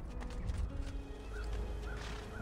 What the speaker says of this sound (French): Et bah voilà, on a enfin un cheval quand même